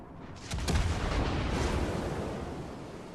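Warship main guns firing in a naval combat video game, a single heavy booming salvo that rolls out into a long rumbling decay.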